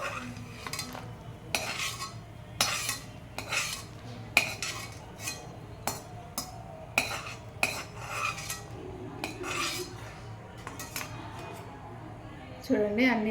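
Cooked ingredients for an old-style healthy ragi milk sweet are scraped and moved onto a plate with metal utensils, giving a dozen or so sharp clinks and scrapes at uneven intervals, close and clear, under a low steady hum.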